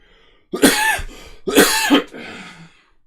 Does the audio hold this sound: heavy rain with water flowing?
no